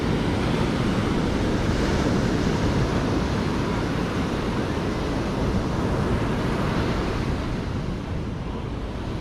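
Large ocean waves on the beach at San Pancho crash and roar continuously, a loud, dense surf wash with wind across the microphone and no voices.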